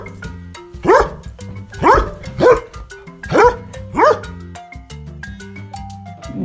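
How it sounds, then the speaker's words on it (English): A dog barks five times in a steady rhythm, each bark loud and close, with soft background music underneath. "The dog barks."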